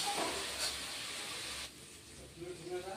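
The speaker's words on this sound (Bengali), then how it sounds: "কাঁচা লঙ্কা বাটা দিয়ে আমি একটু আলু আর মিষ্টি কুমড়াটা ভেজে নিব।" Potato and sweet pumpkin frying in a pan with green chilli paste: a steady close hiss of sizzling oil that drops a little partway through and carries on more softly.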